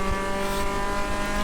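An Acura RSX race car in a racing video game, its engine droning steadily and loud with sustained harmonic tones throughout, close and alone.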